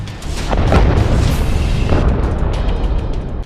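A rocket strikes an IDF tank in a combat zone, setting off a loud, close explosion that swells into a long, rumbling, deep roar with crackling debris and sustains for several seconds with no voices.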